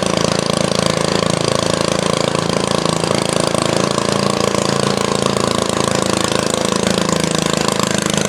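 A loud, rough 1961 Cub Cadet tractor engine with a rotted muffler rumbles steadily at idle with a rattling, raspy exhaust, picking up a choppier throb toward the end.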